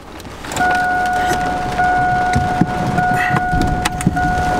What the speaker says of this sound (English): Give it a little gas, crank her up.